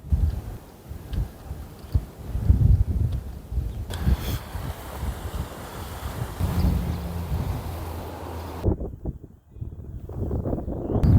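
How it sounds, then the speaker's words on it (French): Wind gusts across a hiking trail among wind turbines, buffeting the microphone in uneven bursts with rumbling lows that rise and fall and drop away briefly near the end. "Il y a un peu de vent."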